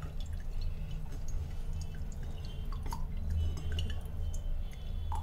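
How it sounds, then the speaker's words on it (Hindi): Water from a raw coconut drains out in a steady trickle with soft drips and splashes throughout, fairly close and continuous, with no talk. "अच्छे से इसका सारा पानी निकाल लीजिए।"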